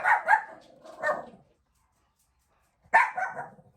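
Two bursts of dog barking, a quick pair of barks early then another after a short silence, fairly close and moderately loud.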